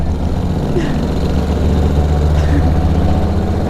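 A Ural motorcycle engine idles steadily and close by, a low, even throb that runs unbroken throughout with a faint background voice at moments.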